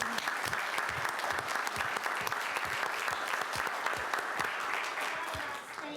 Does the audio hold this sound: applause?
yes